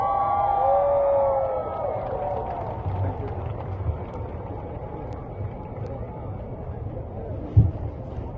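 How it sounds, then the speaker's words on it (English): Crowd cheering for Richard Gere at a Tibetan candlelight vigil in Times Square, Washington D.C., a broad outdoor roar of cheers and whoops that swells at first and then settles into a lower rumble of voices. "people are cheering because one of Tibet's longest time supporters, dedicated true friend Richard Gere,"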